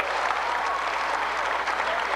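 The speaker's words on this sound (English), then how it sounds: "A big round of applause for a beautiful job of the Sidewinder crash by Mr. Mike Lynch" Steady crowd applause fills a stunt show arena after a Sidewinder rollover car crash, a dense, even wash of many hands clapping at moderate distance with no pauses.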